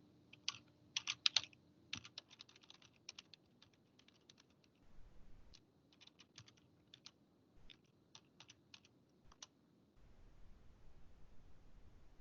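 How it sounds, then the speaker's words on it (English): Quick bursts of computer keyboard typing as login credentials are entered, clicks coming in uneven runs with short pauses, close and fairly soft over a quiet room. "I'm going to type in Abby's credentials"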